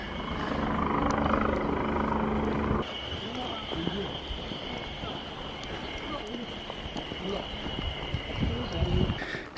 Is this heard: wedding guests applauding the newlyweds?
no